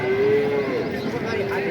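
At a cattle market in Ambari, Dinajpur, a dairy cow gives a single close, sustained moo that wavers in pitch over the busy background murmur of the marketplace.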